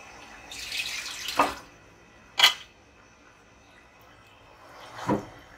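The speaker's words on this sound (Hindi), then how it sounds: "इसमें तकरीबन आधा गिलास के करीब पानी मैं ऐड करूँगी" Water poured into a cooking pot of smoky dhuwan gosht (pasanday) as it simmers: a few short, close splashing pours, the first longer and two quick ones after, with no talk.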